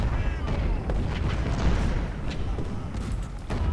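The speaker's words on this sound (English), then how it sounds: "Our artillery pieces are still shooting on their guns." Cannon volleys from Civil War artillery pieces on a Nansemond River battlefield in Ultimate General: Civil War roll out as a dense, continuous rumble of booms and thuds, loud and sustained without pause.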